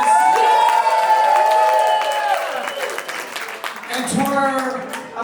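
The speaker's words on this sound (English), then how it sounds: "let's give a round of applause to our beautiful photographer and videographers" A wedding crowd applauding and cheering for the photographer and videographers, loud sustained clapping with whoops and shouts, a voice speaking over the start.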